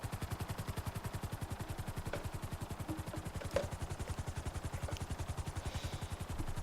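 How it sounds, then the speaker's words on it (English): A helicopter in GTA V Online, its rotor beating in a fast, even rhythm throughout, loud and close, with faint scattered clicks and a single sharper knock. "land your helicopter here"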